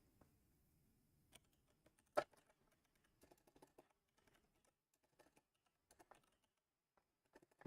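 Soft, scattered keystrokes on a computer keyboard during coding, irregular clicks in short bursts with pauses, quiet and close in an otherwise silent room.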